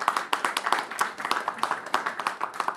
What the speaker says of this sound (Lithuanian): mes juos nulydėkime plojimais